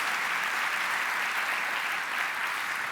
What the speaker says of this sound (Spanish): ¿qué tal si le damos también un aplauso a Dios por las sagradas Escrituras?